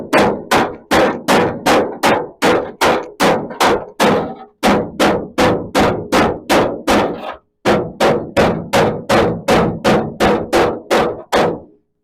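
Steady, rapid hammer blows shaping a metal part for a 1937 Chevy hot rod, dozens of sharp ringing strikes in quick rhythmic bursts with brief pauses between runs, loud and close.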